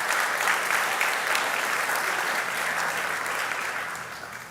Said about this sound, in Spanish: Dale ese fuerte aplauso a Dios si quieres